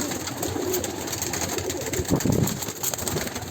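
Pigeons in a coop coo in low murmuring bursts under a dense, steady hiss of background noise, the cooing strongest partway through.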